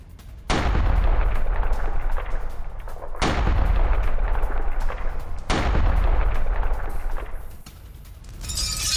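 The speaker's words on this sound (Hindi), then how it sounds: "फैब बमों से किया गया हमला" Three heavy blasts from Russian FAB aerial bombs striking Ukrainian military positions, each a sudden loud boom followed by a long rumbling roar, spaced a few seconds apart.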